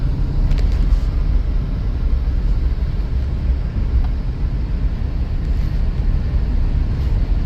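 Continuous low rumble of engine and road noise inside a 2003 Subaru Outback on a test drive, a steady heavy drone that stays even throughout with no talking.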